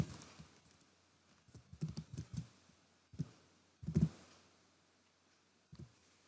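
Someone types on a computer keyboard in short, irregular bursts of soft clicks and taps, close and quiet, with pauses between the groups of keystrokes and no talking.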